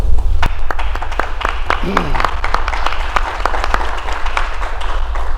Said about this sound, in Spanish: Vamos a recibir con un aplauso, por favor